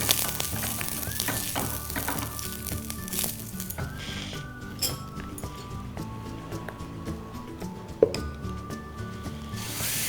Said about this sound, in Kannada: ಎಣ್ಣೆ ಹಾಕಿ ಸ್ವಲ್ಪ ಈರುಳ್ಳಿ ಸವರ್ಕೊಳ್ಳಿ